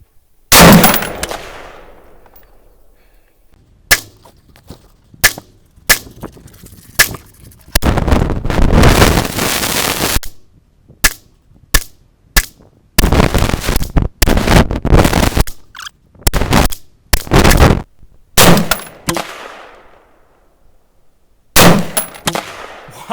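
A 5.56/.223 AR pistol with a 10.5-inch barrel and heavy adjustable buffer fires a string of 20 rounds, sharp loud cracks in quick bursts and single shots with ringing tails and short pauses.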